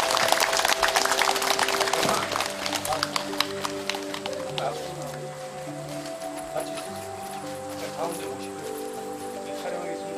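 Audience applause at a Buddhist statue consecration ceremony at Singodalsa temple, a dense burst of clapping that fades after a few seconds into sparse claps under tonal music and background voices.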